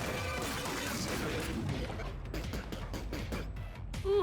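Shots hit an enemy in ScourgeBringer as a rapid train of quick, faint clicks and hits, following a rougher crash-laden stretch of game noise.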